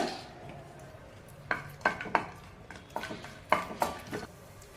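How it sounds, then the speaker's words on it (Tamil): Cashews and raisins being roasted in melted ghee in a pan: a faint sizzle under repeated sharp spoon clinks and scrapes against the metal, irregular and close. "இதுல நம்ம உலர் திராட்சையும் முந்திரி பருப்பும் சேர்த்துட்டு லைட்டா நம்ம ரோஸ்ட் பண்ணி எடுத்துக்கலாங்க"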